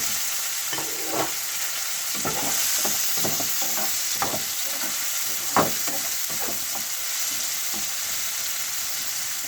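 Tomatoes go into a pan of frying onions and keep up a steady sizzle, with repeated scraping stirs and clinks over the constant frying hiss.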